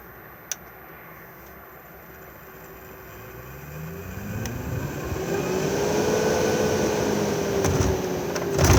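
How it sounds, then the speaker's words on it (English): A Coachman caravan roof vent fan reverses direction to draw air in. Its motor hum fades, then rises again as a whirring tone that climbs in pitch and holds steady, heard close and alone. "the blades will then stop and spin in the opposite direction and then draw air in"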